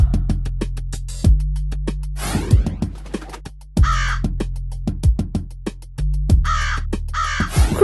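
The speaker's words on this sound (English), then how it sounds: "Crow." A crow caws in a series of loud, harsh calls, several grouped bursts over a few seconds with short pauses between, set among clicks and musical tones and with no speech.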